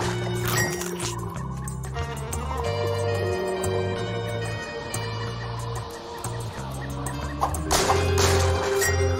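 Chickens clucking and squawking in the video game DeathSpank, the bird calls sitting over looping game music with tonal effects, moderately loud and continuous, with no talking.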